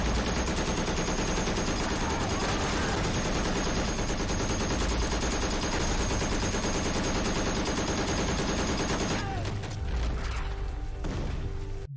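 Sustained gunfire from a Pacific War battle scene, dense overlapping rifle and machine-gun bursts pounding continuously for about nine seconds, then thinning into scattered shots and rumble.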